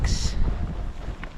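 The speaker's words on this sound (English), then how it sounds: "A bit windy, no rain to speak of" Wind buffets a microphone on a hike along the West Highland Way in Scotland between Bridge of Orchy and Kingshouse, a low rumbling gust that is loud and close for the whole brief moment.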